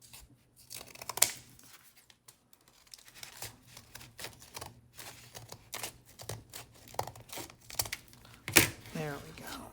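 Intermittent paper handling while making a no-sew accordion junk journal, with short tearing and crinkling bursts, plus a few sharp scissor snips, spaced irregularly across a quiet background.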